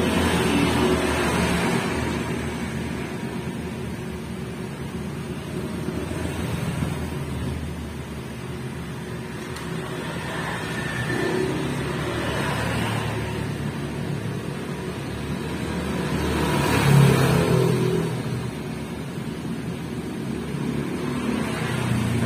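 Road traffic rumbles steadily near an outdoor iguana enclosure, a continuous wash of passing vehicle noise that swells as vehicles go by, with no talking.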